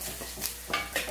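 Turmeric gets stirred into poori masala in a pan: a couple of quick scraping spatula strokes over a faint sizzle, close and brief, no talking.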